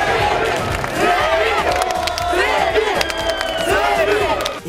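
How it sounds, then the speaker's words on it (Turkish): A large crowd of fans at a packed signing day for Semih Öztürk cheers and yells nonstop, a loud, dense wall of voices with shrill shouts and whoops rising above it. "Yüzlerce kişi tezahürata başladı."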